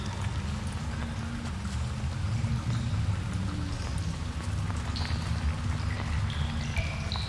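Rain falling inside a cave in the survival video game Green Hell, a steady dense patter of drops over a low rumbling ambience, with occasional brighter drips and tones layered in, continuous and fairly close throughout.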